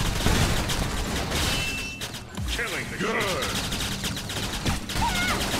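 Rapid gunfire bursts and crashes in the online shooter Gunz2, dense and continuous across the stretch, with excited players talking over the shots.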